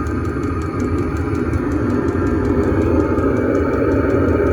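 A Chinese diesel heater runs steadily close by, a continuous low rumbling combustion drone with a fine rapid ticking on top, holding an even level throughout with no talking.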